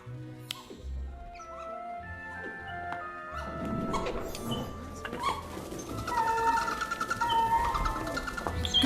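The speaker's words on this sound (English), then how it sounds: "Owls are magnificent creatures, but they don't make the tidy" Owls at the Hogsmeade Owl Post Office in the Harry Potter: Magic Awakened video game hoot, coo and chirp over a busy ambient bed that thickens partway through, with scattered calls and faint background chatter.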